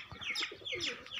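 Pigeons coo in a short, soft series of rolling calls while drinking water on their first day out, close but quiet, with no voices.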